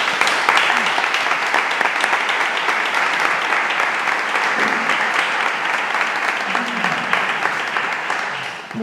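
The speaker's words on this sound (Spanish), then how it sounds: "os pediría un aplauso para el señor conferenciante" An audience at a lecture on the painter Juan Francisco Garzón claps in a dense, sustained round of applause that fills the hall, fading slightly toward the end.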